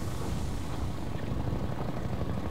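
A combat helicopter in the video game Half-Life 2 gives off a constant, heavy rotor roar and rumble that holds steady, loud and close, with no speech over it.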